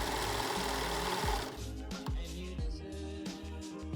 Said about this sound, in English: I'm now just overlocking all of the raw edges just so they don't fray in the wash